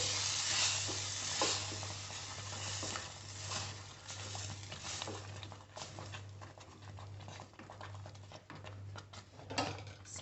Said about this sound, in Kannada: ಸ್ವಲ್ಪ ಅರಿಶಿಣದ ಪುಡಿ ಮತ್ತು ಬೇಯಿಸಿರುವ ದಾಲ್ ಹೆಸರು ಬೇಳೆನ ಹಾಕಬೇಕು